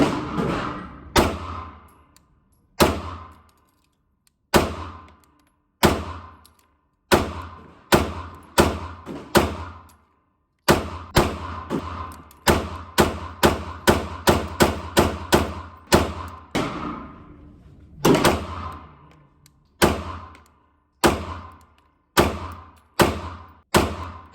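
A Gen 3 Glock 49 OEM hybrid pistol fires sharp, close shots on a range, first spaced single shots, then quick strings of rapid fire, then more measured shots with short pauses between.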